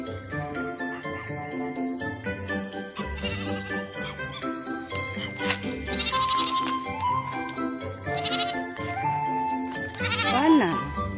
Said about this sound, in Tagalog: Dito ako sa farm. Kasama ang mga kambing ko.